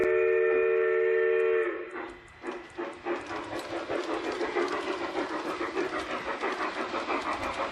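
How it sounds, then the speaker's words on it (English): A Piko G-scale model locomotive, a track-cleaning machine, runs along garden-scale model track, first a steady tonal whine, then a rhythmic, fairly close rattling and clicking of wheels over rail joints that keeps going. "Let's see now what happens when we try to run the locomotive down the track."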